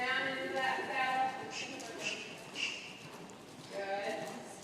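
A horse's hooves clip-clop in a steady gait around an arena rail during a riding lesson, fairly soft and partly under an instructor's voice.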